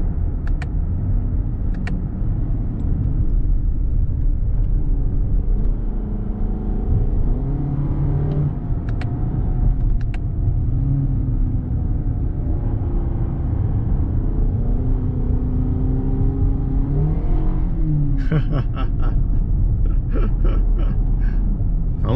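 A Toyota Crown sedan hybrid accelerates smoothly on a winding mountain road, its engine and road noise a steady, smooth rumble with the pitch slowly rising inside the cabin, plus a few faint clicks near the end.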